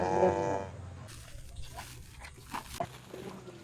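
Cattle moo loudly at feeding time on a farm in Baturaden, Purwokerto, with one deep, drawn-out call at the start, followed by softer rustling and crunching as the cows gather to eat.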